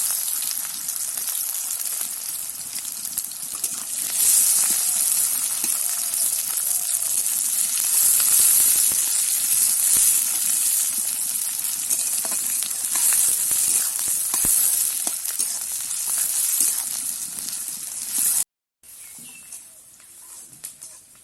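Chopped onion fries in hot oil with bay leaf, dried red chilli and cumin for a mutton paya curry, a loud, close, continuous sizzle and hiss that cuts off abruptly near the end.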